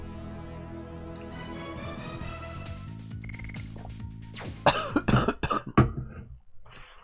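A sick person breaks into a harsh coughing fit near the end, several loud hacking coughs in quick succession following a quieter stretch of steady tonal background sound.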